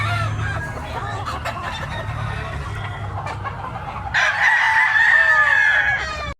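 A Spangle White gamecock crows loudly and close at a rooster sale in Tabunok, Cebu, with a long drawn-out call in the latter half over clucking and background chatter from the market.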